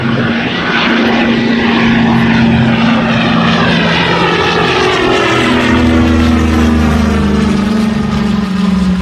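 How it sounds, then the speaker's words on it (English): A WWII-era Douglas C-47 Skytrain twin-engine propeller plane flies overhead at an airshow in Cleveland, its loud steady engine drone shifting slowly in pitch as it passes, with no talk over it. "There is one airplane in the air"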